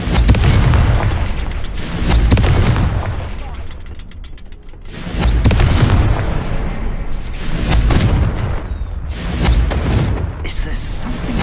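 Confringo blasting-curse explosions in the Hogwarts Legacy video game: a series of loud, deep booms and bursts, each followed by rumbling decay, repeating several times in quick succession with a voice briefly heard.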